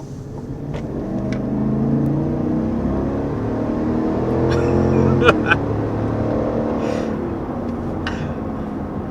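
A 2022 GMC Yukon Denali luxury SUV accelerating, its engine note building into a smooth, steady rising hum with road noise, heard from inside the cabin without talk.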